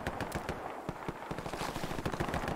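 Rapid automatic gunfire in the World War II shooter Hell Let Loose, a dense burst of repeated shots with overlapping distant fire, loud and continuous.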